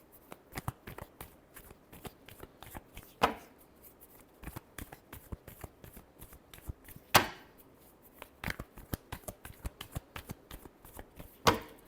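Tarot cards shuffled by hand in rapid bursts of crisp flicking riffles and soft slaps, close and quiet, with a few sharper knocks as the deck is squared, no voices.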